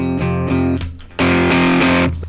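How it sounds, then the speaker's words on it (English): Loud distorted electric guitar chords, two sustained strums with rhythmic picking and a brief pause between them, no voices. "I'm going to try my distortion sound."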